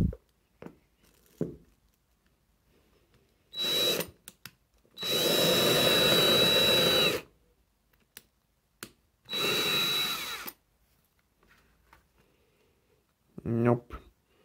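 A power drill with a dust-collecting attachment runs in three bursts, short, then a longer steady whine, then another, with quiet gaps and small clicks between.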